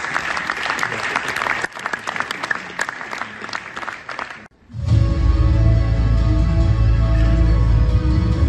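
An audience at a cycling awards evening breaks into loud, sustained applause that dips briefly, then swells again into a dense, warm roar of clapping and crowd noise.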